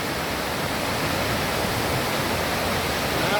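Borjomi waterfall with water pouring down from the mountain, a constant broadband roar heard from nearby on a bridge, steady and loud with no voices.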